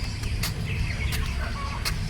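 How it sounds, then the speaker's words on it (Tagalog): Tethered fighting roosters kept outdoors in a village: short clucks and crowing calls rise over a steady rumble of outdoor background noise, with a few sharp bursts standing out. "may mga manok dyan na tinatali"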